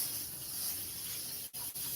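Aerosol spray hisses steadily and close for most of the moment, broken by two brief pauses near the end.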